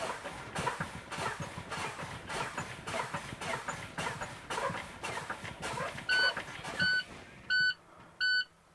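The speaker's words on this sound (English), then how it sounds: "At that time, your warning light and buzzer will come on." A truck's low air pressure warning buzzer gives tinny pulsing beeps near the end, a few short bursts after a stretch of rhythmic clattering engine noise, then the beeping repeats alone.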